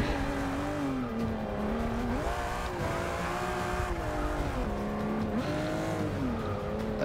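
A Mercedes racing car engine in the Forza 6 racing video game, revving loudly and continuously with rising and falling pitch through gear changes, a harsh, buzzy tone throughout with no talk.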